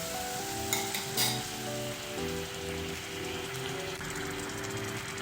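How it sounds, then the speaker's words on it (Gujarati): Rice and lentils for a traditional Gujarati khichdi roast in hot ghee in a pan with a steady, close sizzle and occasional stirring scrapes, under a soft tonal background. "તો પહેલાં આપણે આવી રીતે ઘીમાં ખીચડી છે એને સરસ રીતે શેકી લઈશું."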